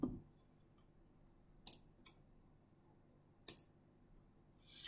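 A few sharp, quiet mouse clicks in dental aligner simulation software, two pairs spaced about two seconds apart over a faint hum, with no talking.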